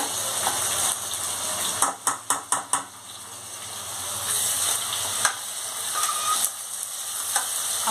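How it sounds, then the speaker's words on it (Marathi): Onion and mint leaves sizzle steadily in a hot pan while a spoon stirs and scrapes, with a quick run of five clinks against the pan, for chicken sukka masala. "आपला कांदा हा चांगला परतून घेऊया।"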